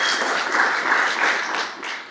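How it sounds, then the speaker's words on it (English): Conference audience applause after a delegate from Vanuatu is introduced, a short, moderately loud wash of many hands clapping at a Pacific peace and security meeting, fading slightly at the end. "We can give her a round of applause, please, from Vanuatu"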